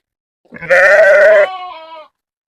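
A single 25-day-old lamb gives one short, close, wavering bleat that trails off into a softer tail, with no other sound around it.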